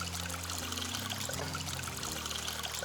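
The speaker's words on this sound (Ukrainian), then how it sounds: "Ось таке джерельце" Small mountain spring on a trail to a highland meadow, water trickling and pouring steadily and close by, a continuous soft splashing stream with no voices.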